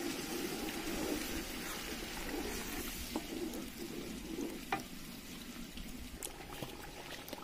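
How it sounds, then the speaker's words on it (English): A blended tomato, pepper and onion mixture fries in a pot of chicken stew, making a soft continuous bubbling sizzle with occasional small pops, faint and steady. "now I'm going to add my tomato, pepper, onions that I blended earlier"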